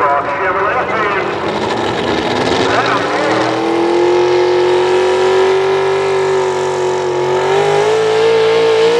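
Chevrolet pro stock 4x4 pulling truck roaring at full throttle during a truck pull, one loud continuous engine note climbing steadily in pitch as it pulls down the track, with an announcer talking over it.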